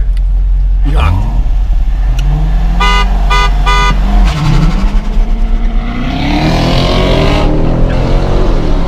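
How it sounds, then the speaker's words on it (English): A car horn honks in a short burst of repeated toots over loud engine rumble, with voices talking nearby. "You want to honk?"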